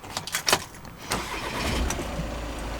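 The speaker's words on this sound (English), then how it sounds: "if we start the vehicle up" A VW Transporter Highline Kombi van engine cranks briefly after a few clicks and handling sounds, then catches and settles into a steady, close idle that continues to the end.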